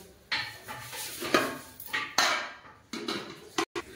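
Metal lid clattering onto a cooking pot holding fish heads, with several sharp clinks and scrapes of cookware at close range and no talking.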